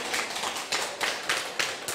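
An audience at a motivational business talk claps hands in a series of sharp, rhythmic bursts, fairly near and moderately loud, with no speech over it.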